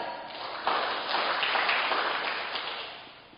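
Church congregation claps together in a short, steady burst of applause that swells and then fades, with no talking over it.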